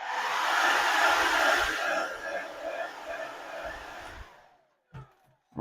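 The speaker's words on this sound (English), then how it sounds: "hit it again with the hairdryer." A hairdryer blowing on an ostomy barrier strip, a loud steady whoosh for about four seconds that cuts off, followed by a couple of brief handling bumps.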